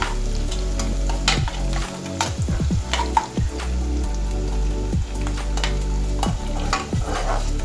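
Sliced ginger and onion sizzle steadily in a pan for a mutton roast while a spoon stirs and scrapes, giving intermittent clinks and scraping sounds over the continuous frying hiss.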